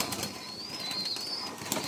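Pigeons in a fancier's loft, with a soft chirping and whistling bird call drifting over a quiet background and a few faint flutters, fairly distant and low in level.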